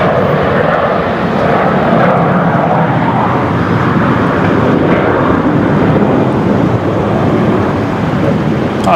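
Aircraft at Brisbane Airport, a loud, steady roar of jet engines close by with wind buffeting the microphone, continuous throughout without a break.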